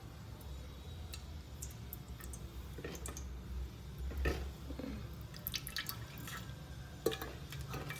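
Oil and ghee go into a pan while avarekalu uppittu is being made. Faint, scattered drips and light ticks sit close by over a low background hum.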